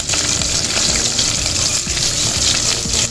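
Sliced onions dropped into hot oil for a crab pepper masala, setting off a loud, dense, continuous rushing sizzle with close, bubbling texture.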